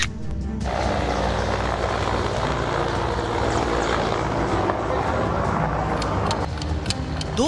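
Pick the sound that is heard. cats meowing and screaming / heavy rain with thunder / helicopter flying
helicopter flying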